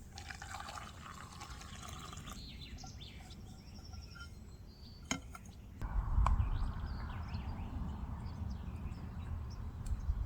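Water poured from a container into a pot of porridge at an outdoor riverside camp during a kayaking trip. A soft, rising fill gurgle plays against birdsong and light outdoor noise, followed by a louder thump and rustle.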